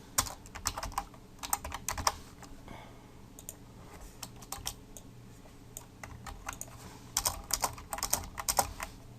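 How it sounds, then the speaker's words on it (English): Typing on a computer keyboard, in irregular bursts of quick clicking keystrokes separated by brief pauses, fairly close and alone, no speech. "let me just type all these out first"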